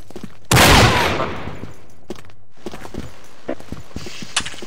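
A Desert Eagle pistol fires in a video game, a sharp loud report with a long ringing tail, followed by softer clicks, footsteps and scattered game sounds.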